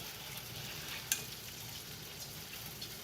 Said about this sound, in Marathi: आणि चवळी पण अशी तेलावर छान आधी परतून घ्यायची.